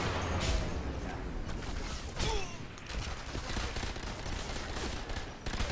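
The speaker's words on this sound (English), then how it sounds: "You're shooting with your Thompson." A Thompson submachine gun fires in the Sniper Elite V2 video game, with rapid clattering bursts and mechanical clacks that repeat unevenly and stay up close over a busy game background.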